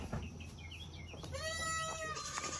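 A goat in a barn gives a single clear, wavering bleat, fairly loud and close, with soft background noise and faint bird-like chirps around it.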